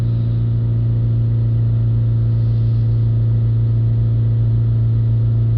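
BMW 525d diesel engine held at steady revs, a loud, even low rumble with a constant pulsing throb and no change in pitch, close and alone without voices.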